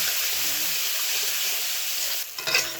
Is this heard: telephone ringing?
no